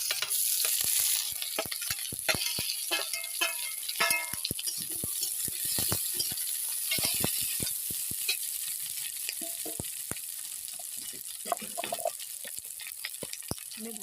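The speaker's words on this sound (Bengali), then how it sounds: "এবার এই ভেজে রাখা সবজিগুলোও দিয়ে দেবো।" Pre-fried vegetables tipped into a pan with whole garam masala for fried rice, crackling and sizzling steadily while a utensil scrapes and clatters in quick irregular strokes, close and without talk.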